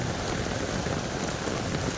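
A dense, steady roar of heavy typhoon rain pours down without letup, loud and close, with no voices.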